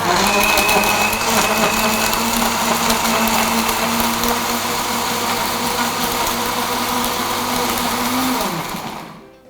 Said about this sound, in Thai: ตามด้วยช็อกโกแลตชิพค่ะ แล้วก็ปั่นเลย แล้วก็ปั่นเลยค่ะ